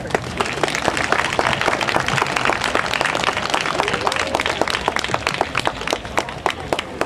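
A crowd at a sheep-breeding livestock show claps for breeders, sharp individual hand claps forming a steady, fairly loud ripple of applause with no talking over it.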